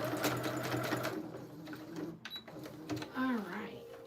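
A sewing machine stitching a fabric plant pot sleeve runs in rapid bursts of mechanical whirring, with a voice talking and some background music at moderate level.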